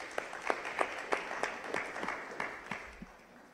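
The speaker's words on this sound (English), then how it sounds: "the fact that you are here deserves a round of applause" Scattered audience clapping at a Manhattan community board town hall on ballots, a thin, uneven patter of a modest crowd's hands with distinct individual claps, moderately faint and tapering off toward the end.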